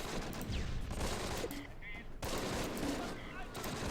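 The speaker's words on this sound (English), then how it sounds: "It's just a rifle team, but somebody's got a BAR, that's for sure." A rifle team trading fire, a BAR among them, in Close Combat: a dense fusillade of rifle cracks and automatic bursts, near and loud, with a brief lull in the middle before firing resumes.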